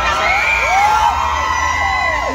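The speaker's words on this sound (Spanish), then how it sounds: "¿Quién está gritando?" A large outdoor crowd shouts and whoops loudly, competing for concert tickets at the waiters' race in San Pedro Tlaquepaque, a continuous dense roar with rising and falling yells throughout.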